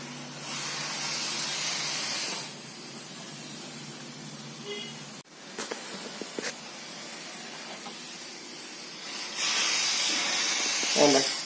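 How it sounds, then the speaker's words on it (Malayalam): A loud, steady steam hiss rushes from a boiling pressure cooker, fading midway, with clattering kitchen sounds before the hiss swells again near the end. "കുക്കറിലെ വെള്ളം തിളച്ച് നല്ല രീതിയിൽ ആവി വരുന്നുണ്ട്."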